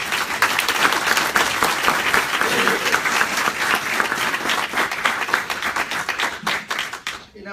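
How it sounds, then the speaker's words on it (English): An audience claps for the panelists at a panel discussion on running for office. The applause is loud, steady and close, with a few voices mixed in, then thins out near the end. "let's give the panelists a round of applause"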